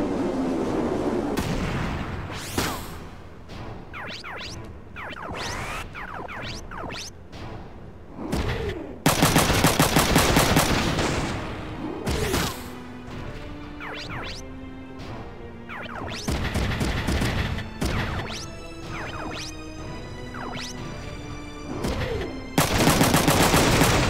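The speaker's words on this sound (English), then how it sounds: "now we can start firing the rest of our missiles off" Missiles fire in rapid volleys in Front Mission 3, loud blasts and crashing impacts repeating in bursts with short pauses, mixed with game music tones.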